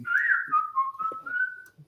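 A short whistled tune of a few sliding notes, close and clear, with no talking around it.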